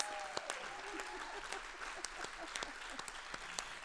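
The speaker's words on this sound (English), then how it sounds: "Let's give her a big round of applause." Concert audience applauding after a call for a round of applause for a performer, a steady crowd clapping with scattered louder claps and faint whoops over the top.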